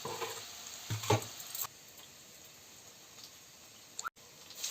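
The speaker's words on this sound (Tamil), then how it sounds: "நல்லா வதங்கிட்டு இருக்கான் பாருங்கள்" Onions, shallots and curry leaves sautéing in oil for crab gravy, a soft, steady sizzle with a few louder stirring scrapes near the start and a brief clatter near the end.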